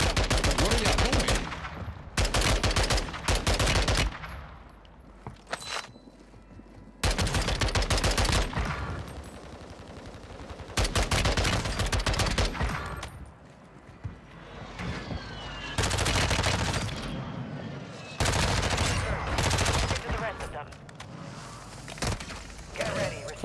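Heavy automatic gunfire in the shooter game Warzone on Rebirth Island, repeated loud bursts and sustained volleys with short lulls, under occasional voices.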